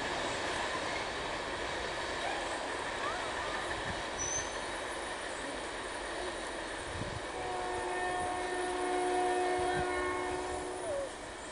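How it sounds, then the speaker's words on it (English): A train passing by in the morning, a faint, distant rumble that swells slightly toward the end with steady horn-like tones, heard alone without talk. "There it goes. Bye-bye, train."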